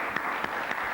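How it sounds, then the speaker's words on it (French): Brief applause from a quiz show audience for a contestant, a steady dense patter of clapping over about a second. "On peut l'applaudir encore une fois."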